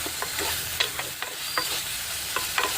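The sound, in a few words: stirring black-eyed pea and brinjal curry in a pan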